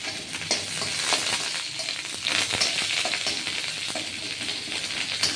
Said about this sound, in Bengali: শুকনো লঙ্কা ভাজা হয়ে যাবে এর মধ্যে আমি কালি পাতা দিয়ে দিলাম চার পাঁচটা কালি পাতা